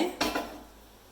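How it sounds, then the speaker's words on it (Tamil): A cooking pan set down on a lit stove while making mixed vegetable kootu: one sharp metallic knock with a brief ringing tail, close and fairly quiet, no talk. "அடுப்பு பற்ற வச்சு சட்டி அடுப்பில் வைக்க"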